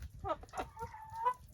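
Chickens on a farm cluck softly and close by, with several short, separate calls and a longer warbling note across a quiet background.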